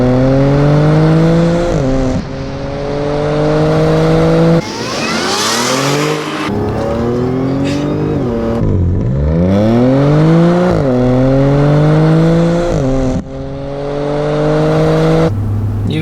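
A Stage 2 APR-tuned 2011 B8 Audi S4 revs hard, its supercharger whining high over a deep, grunting exhaust note, loud and close, with repeated rising pulls and gear changes.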